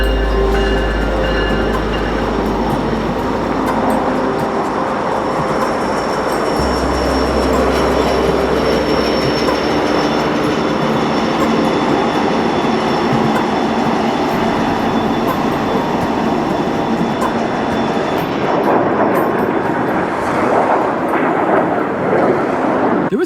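A freight train rolls over a bridge, a loud, continuous rumble of wheels and cars with metallic squeal and rattle that holds steady throughout, no talking.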